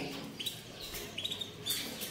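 A songbird offered for sale gives quick, thin, high chirps in short scattered bursts over faint background hiss, fairly close and not loud.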